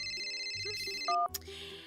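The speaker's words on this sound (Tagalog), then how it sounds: "sino naman tong tumatawag sa cellphone ko at hindi nakasave ang number niya?" A cellphone rings with an incoming call from an unsaved number, its melodic ringtone loud and close for a couple of seconds.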